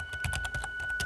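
Quick rhythmic typing on a computer keyboard, about a dozen sharp close key clicks in a steady burst with no talking.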